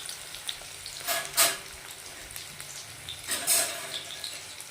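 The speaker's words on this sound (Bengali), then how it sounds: "পেঁয়াজটা একটু লাল লাল লাল লাল ভাজা ভাজা হবে" Onions fry in a pan, browning with a soft steady sizzle and two louder bursts of stirring.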